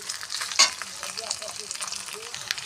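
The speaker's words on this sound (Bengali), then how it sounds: "আলুগুলো ছোটো ছোটো কেটে নিয়েছি যাতে ভাজাও হয়ে যাবে" Small diced boiled potatoes fry in hot oil with a steady crackling sizzle, broken by one sharp clack of a spoon stirring against the pan.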